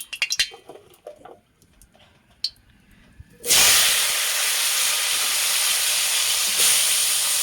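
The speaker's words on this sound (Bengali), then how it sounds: "তেল গরম হয়ে গেছে। এখন আমি যে কাল্লাটা দিয়ে দেবো" Bitter gourd dropped into hot oil: a few quiet clinks and handling sounds, then a sudden loud burst of hissing sizzle that holds steady and close until the end.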